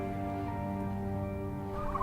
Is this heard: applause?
no